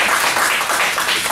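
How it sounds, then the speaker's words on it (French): An audience claps for award winner Evelyne Doublé at a prize ceremony, a dense, loud burst of many hands applauding together with no talk over it. "vous pouvez l'applaudir."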